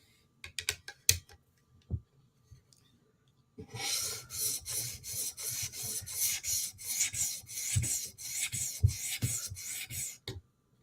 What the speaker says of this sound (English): Now we're going to switch to 150 grit stone. Or 400 grit stone.